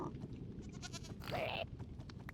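A goat bleats in the Minecraft video game, a single wavering cry lasting about half a second over a steady low ambient rumble and faint clicks, fairly close.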